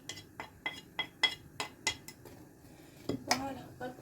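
Kitchen utensils are dropped into a sink during cooking, a quick series of close metallic clinks and clatters, about a dozen separate knocks over a few seconds.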